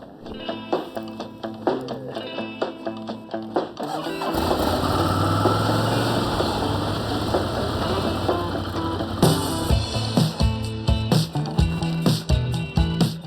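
A motorcycle engine cranks with sputtering pops, roars to life and settles into a steady rumble, then revs up again in sharp bursts.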